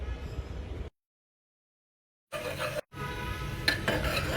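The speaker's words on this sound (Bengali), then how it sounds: "এবার পাত্রটি চুলোয় বসিয়ে দিব, 5 মিনিট নাড়তে থাকবো" Flaxseed and chia seed gel stirred in a pot on the stove, a spoon scraping and clinking against the metal with a steady simmering hiss, broken by a long silent gap before the stirring resumes.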